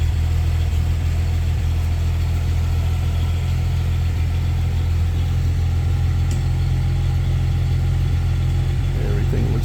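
A vintage car engine idles steadily after starting, giving a loud, continuous low rumble close by that stays even throughout.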